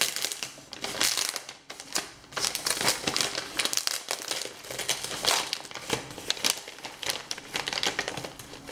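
Parcel of books being opened by hand, close crackling and crinkling of paper and packaging in quick irregular bursts, with rustling between.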